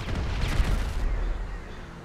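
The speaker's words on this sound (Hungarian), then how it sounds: "Figyelj, robbantom." A blast in the video game GTA V: a heavy, booming explosion with a rumbling low-end tail that gradually fades over about two seconds, loud and close.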